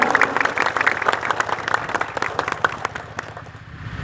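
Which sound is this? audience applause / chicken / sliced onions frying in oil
audience applause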